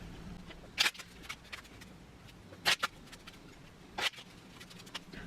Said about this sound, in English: Let me shuffle them up.